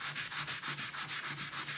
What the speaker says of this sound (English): you just sand it, you sand it down nice and flat